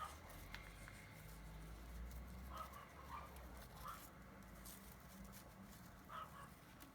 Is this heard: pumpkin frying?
no